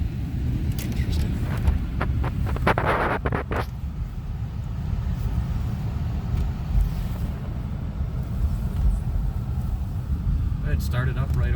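A 1992 Ford Taurus engine starts and then runs with a steady, close low rumble. A few brief clicks and higher noises come near the start, and wind buffets the microphone throughout.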